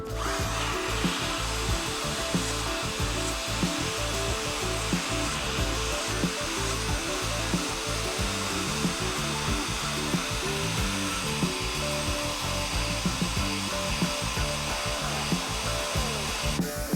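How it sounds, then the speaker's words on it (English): Steady, harsh whir of a grinder working over an old metal sawblade, continuous and close with no pauses or talk. "We're going to keep grinding away at it and then wipe it down."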